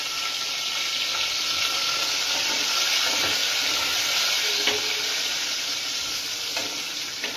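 Spices such as bay leaf, curry leaves and coriander sizzle in hot tempering oil, giving a loud, continuous hiss with small pops and crackles up close, with no voices.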